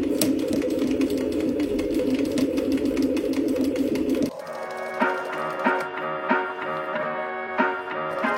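A domestic sewing machine running steadily as it backstitches a seam, a continuous buzzing whir that stops partway, followed by a few lighter clicks and taps.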